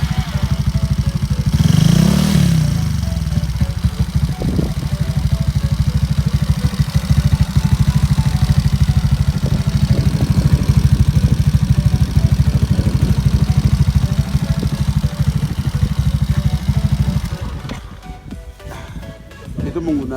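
A bored-up Yamaha Mio GT 135cc scooter engine with a custom exhaust and high compression runs loud and steady with a raspy, throaty drone and a rev near the start, under talking voices.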